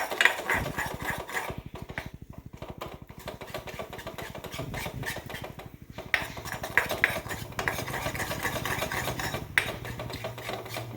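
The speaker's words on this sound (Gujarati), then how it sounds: "મેંદો સરસ શેકાઈ જાય પછી હું તમને બતાવું." Maida flour roasts in a pan while being stirred, producing a continuous close scraping and rubbing with a soft rhythmic texture and occasional utensil knocks.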